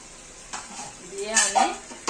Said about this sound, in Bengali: আমি এইবার তেল কই মাছগুলো দিয়ে নিচ্ছি